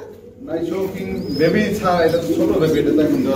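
Pigeons coo at a pigeon farm, with soft, rolling coos rising close by as people talk over them.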